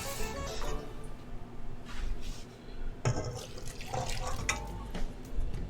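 Tap water runs steadily into a pot for potato soup, a continuous splashing fill with a brief break partway through, heard close with no talking.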